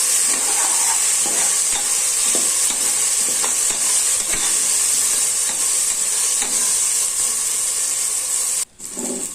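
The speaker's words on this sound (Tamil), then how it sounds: "நல்லா அந்த பச்சை ஸ்மெல் போகிற அளவுக்கு வதக்கிக்கலாம்." Sliced onions with ginger garlic paste sizzle steadily in hot oil in a pressure cooker for chicken biryani, a loud continuous frying hiss broken by scraping stirs, with a brief dip near the end.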